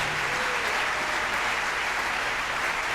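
A congregation in a French-language church service claps together in a dense, steady burst of applause that holds evenly for a few seconds, with no voice over it.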